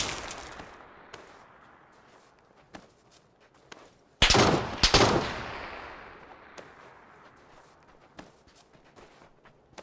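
Gunfire in the video game PUBG: a loud sniper rifle crack with a ringing tail stands out midway, amid scattered quieter shots and footstep-like clicks in an otherwise sparse scene.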